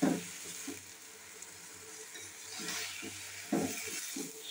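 Mixed leafy greens such as Malabar spinach and coriander leaves fry in a pan with a quiet, steady sizzle, interrupted by a few soft stirring scrapes.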